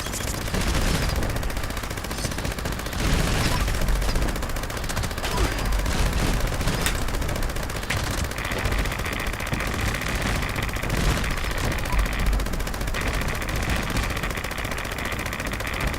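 Video game gunfire and machine gun shooting rattle continuously in dense overlapping bursts, loud and near, with faint talk occasionally underneath.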